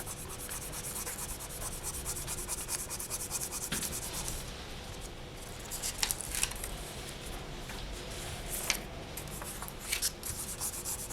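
Soft, steady rubbing as pastel is burnished onto polymer clay, a continuous close scratchy friction with a few small taps and strokes, no talking.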